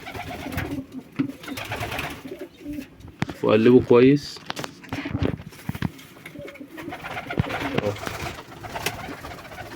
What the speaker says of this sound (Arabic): واتفرجوا على الحمام اول ما الميه تتحط له